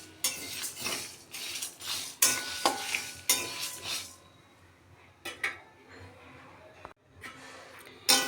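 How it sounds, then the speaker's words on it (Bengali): Spices for a red chili pickle frying and being stirred in a pan, with bursts of sizzling and scraping spoon strokes on metal, loud and close, settling into quieter crackle between strokes. "মশলাগুলো আমার ভাজা হয়ে গেছে"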